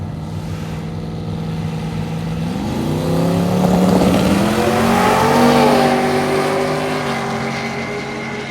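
A Corvette drag racing down the strip at Hot Rod Drag Week, its loud engine note climbing steadily through the gears as it pulls away, sustained and droning over several seconds without talk.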